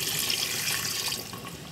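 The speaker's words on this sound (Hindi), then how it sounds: "और अब इसको पानी डाल के हम गलने के लिए रख देंगे।" Water splashes and runs steadily into a pot of nalli nihari meat, a continuous close pouring rush with no voices.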